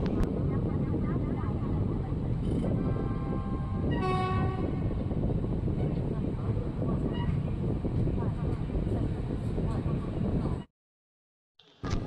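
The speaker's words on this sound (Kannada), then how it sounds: "ನಮ್ಮ ಟ್ರೈನ್ ಈಗ ಧರ್ಮವರಂ ಜಂಕ್ಷನ್ಗೆ ಎಂಟ್ರಿ ಆಗ್ತಿದೆ" An Indian Railways train with LHB coaches rolls into Dharmavaram junction, its loud rumble and wheel clatter steady throughout, a horn sounding briefly near the middle before the sound cuts out near the end.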